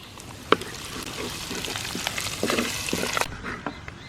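Ginger and garlic frying in hot oil, a steady close sizzle with scattered pops and crackles and a sharp clink near the start, the sizzle easing off toward the end.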